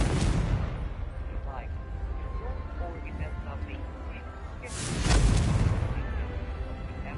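Confringo explosion spell in Hogwarts Legacy, a loud booming blast at the opening and another heavy explosion about two thirds through, over a continuous rumbling game background with a voice speaking.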